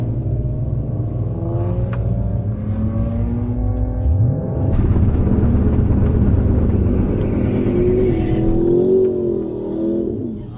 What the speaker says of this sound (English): Burnt off a little bit of water, got some heat in the tires.